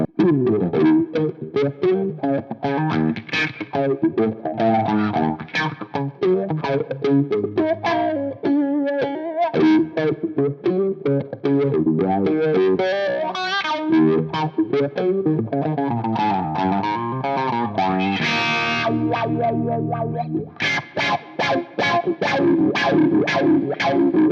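A distorted electric guitar on the bridge pickup, played through a Friedman Gold 72 wah pedal rocked back toward the heel, plays a continuous run of notes and chords with a sweeping, vowel-like filtered tone, loud and busy throughout, with no voices.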